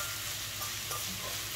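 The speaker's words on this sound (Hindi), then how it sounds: "मैं भी थोड़ा सा तुम्हें हेल्प कर रही हूँ प्याज फ्राई करने में।" Onions frying in a pan at home, a continuous close hiss and sizzle with faint stirring scrapes, steady throughout with no voices.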